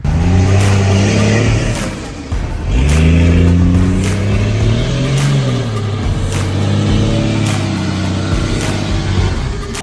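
A Dodge Cummins diesel truck revs loudly and close, its engine note rising and falling in several sustained surges with a deep rumble throughout.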